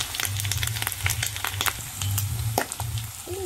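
Pigtails fry with garlic in a pan, giving a continuous close crackling sizzle with scattered sharp pops and spits over a low steady hiss.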